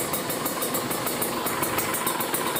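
A Kawasaki Ninja RR two-stroke motorcycle idles just after a cold start, with a close, steady, buzzy engine drone and a faint regular pulsing throughout.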